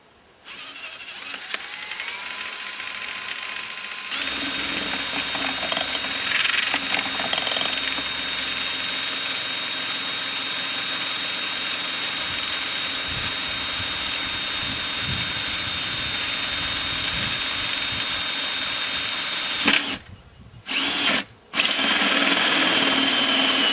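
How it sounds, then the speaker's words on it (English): A power drill whines steadily for about fifteen seconds, loud and close, drilling a hole in a plastic container, with a few brief stops and restarts near the end. "So we'll drill this hole."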